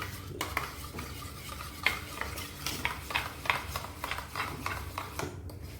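Spoon stirring and mixing a spiced curd gravy with sambar masala in a pan, steady scraping strokes with occasional louder clinks against the metal, a faint sizzle underneath, close and moderately quiet.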